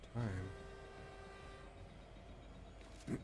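A Fortnite train rumbles past with a horn-like tonal blast at the start, then a steady low rolling drone, quiet and in the background with a brief thump near the end.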